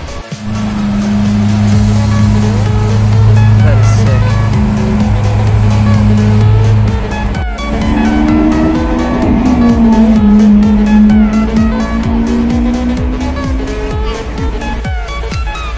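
A very loud Lamborghini Aventador roars close by, its engine droning hard before rising and shifting in pitch as it revs and moves off, with a heavy rumble throughout.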